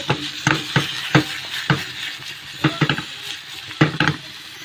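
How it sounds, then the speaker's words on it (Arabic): Sausage and toppings sautéed in a pan, stirred in repeated scraping, clattering strokes over a low sizzle, close and fairly loud with no talking. "هديله تشويحه كده"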